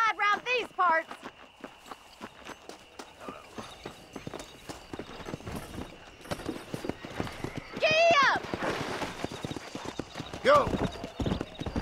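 Hoofbeats of a horse ridden in Red Dead Redemption, a steady clip-clop running through the whole stretch, with occasional whinnies, wind and other game noise and a short shouted word from a person.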